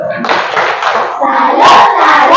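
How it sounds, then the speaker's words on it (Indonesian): Children in a classroom do a group clapping salute, a short burst of claps mixed with loud chanted shouting from the whole group, close and lively. "Ayo, tepuk salut."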